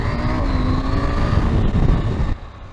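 A KTM 890 SMT supermoto motorcycle's engine drones steadily and loudly while riding, with wind rush over it, then drops off sharply near the end.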